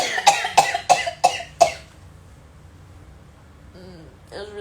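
Five sharp coughs come in quick succession up close, followed by quiet and then a few faint voiced sounds near the end.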